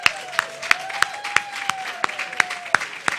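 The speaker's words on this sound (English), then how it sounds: "why don't you all join me in just giving our practitioners a round of applause." Audience applause for practitioners at a Sunday celebration gathering, scattered claps rising into steady clapping over a sustained tone, moderately loud and close.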